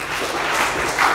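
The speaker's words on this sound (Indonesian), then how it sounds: "Kasih tepuk tangan untuk Tuhan." A church congregation applauding together during a morning devotional service, a steady dense wash of clapping that swells slightly near the end, with no voices over it.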